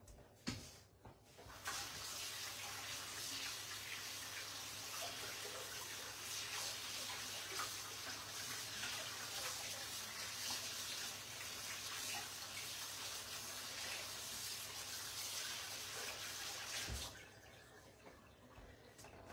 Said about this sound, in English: rinse my hands and grab some water